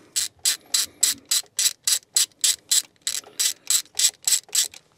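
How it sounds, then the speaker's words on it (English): Ratchet with a short extension undoing a spark plug coil bolt on a Vauxhall Corsa D: a rapid, even run of about eighteen crisp clicks, close and clear, with no talk. "the ratchet and the short extension bar"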